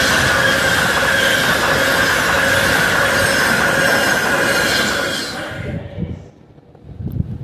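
A Class 390 passenger train passes close by, its loud broadband rumble and steady wheel squeal filling the first five seconds before quickly fading away, with faint voices briefly audible afterwards.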